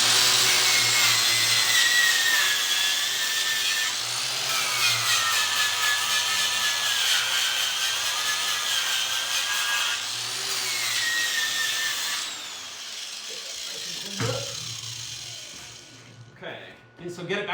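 A power tool fitted with a wire wheel grinds metal back to a shiny finish in a workshop, giving a loud, continuous high whine that wavers in pitch before cutting off near the end.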